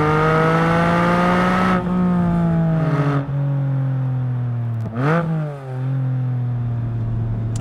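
Porsche Cayman GTS 4.0 flat-six engine, loud and steady at close range, holding a strong droning tone that dips slightly at shifts and swells briefly, sustained throughout without speech.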